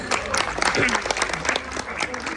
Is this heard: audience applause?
yes